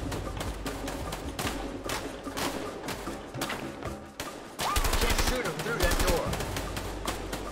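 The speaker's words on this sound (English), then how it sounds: "he's shooting through the hole." An enemy fires rapid bursts of gunfire in the video game Army of Two, with repeated sharp shots that swell louder in the second half, all under a busy game soundscape.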